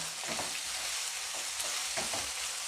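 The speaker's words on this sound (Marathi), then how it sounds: "कांदा आपण परतून घेऊया एकदम नरम करून घ्यायचा कांदा" Chopped onion sautéing in a pan with cumin for chicken keema, a steady close sizzle with soft spatula stirs scraping through it, no voices.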